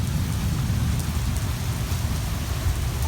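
Steady Florida rain pouring down with a dense, constant hiss and low rumble, no voices, even loudness throughout.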